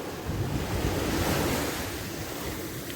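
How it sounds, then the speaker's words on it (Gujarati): Sea waves roll onto a shore in a steady, loud wash of surf with wind buffeting the microphone, no voices over it. "કવડા મોજા આવે છે જો."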